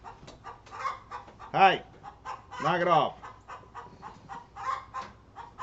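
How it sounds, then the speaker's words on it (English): Chickens cluck on a farm, with two loud squawking bursts standing out among scattered nearby clucks, while a person speaks briefly over the fowl. "If you hear a chicken being stupid in the background and or dogs going crazy"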